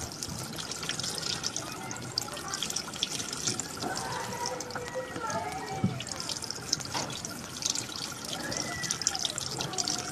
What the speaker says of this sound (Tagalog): Ubusin lang natin itong tubig niya.